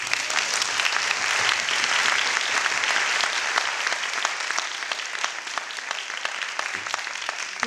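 An audience at a triple book presentation gives a sustained round of applause, thick and even at first and thinning slightly toward the end.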